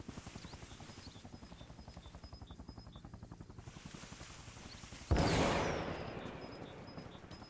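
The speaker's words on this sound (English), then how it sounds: "these fucking Yankees love helicopters" Helicopter in a war video game, a steady rapid rotor chop throughout, followed by a sudden loud blast of noise that slowly fades while the rotor continues.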